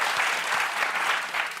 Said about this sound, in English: Don't clap, it's too soon.